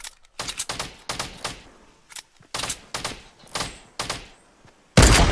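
Fortnite gunfire rings out as a string of sharp, separate shots in quick bursts with short gaps between them, ending in a louder sustained blast.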